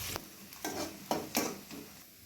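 Onions and green chillies frying in a pan for fried rice, with soft sizzling and several sharp scraping stirs of a spatula, close and fairly quiet, no talking.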